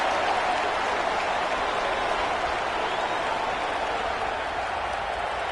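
A stadium crowd at a tense Texas vs Wisconsin college football game roars in a steady, dense wash of cheering and applause that holds without a break.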